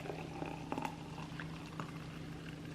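Thick smoothie is poured from a blender jug, a faint, steady liquid trickle and glug running quietly throughout.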